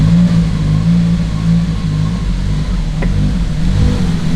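A Toyota Celica GT-S Turbo engine, freshly fitted with a new alternator, idles steadily with a low, even hum and no talk over it.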